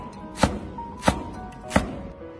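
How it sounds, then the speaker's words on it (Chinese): A knife slices scallion on a cutting board with three crisp, evenly spaced chops about two-thirds of a second apart, close and clear over a quiet room. "大葱也切片"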